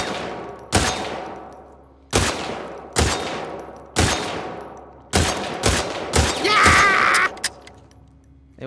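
Gunfire in The Last of Us Part II: a series of loud, sharp gunshots fired singly at roughly one-second intervals, each with a decaying echo, then a faster cluster of shots toward the end.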